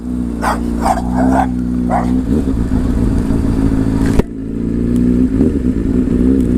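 A dog barks several times in quick, loud yips near a Honda CBR600RR motorcycle, over a steady low engine rumble that runs through the whole clip.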